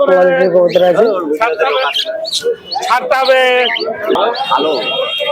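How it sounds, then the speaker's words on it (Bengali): Giribaz pigeons and other caged birds at a bustling bird market chirp and call loudly and continuously, with voices talking over them. "আজকে দেখতে পেলেন গিরিবাজ কবুতর"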